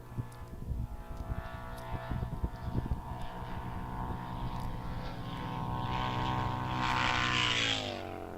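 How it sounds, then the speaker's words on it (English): A Harley-Davidson bagger-class motorcycle runs at an ECTA drag race, its engine a droning roar that climbs in pitch, shifts, then surges louder and higher toward the end. "Is that Kevin on the Harley? Supposed to be a Harley. I should have a different sound to it."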